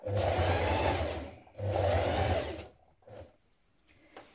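A sewing machine topstitches two parallel rows on jeans, running in two loud, steady bursts of about a second and a half each with a short pause between, then stopping into quieter handling sounds.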